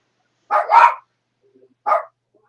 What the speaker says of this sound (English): you stop barking at the cat.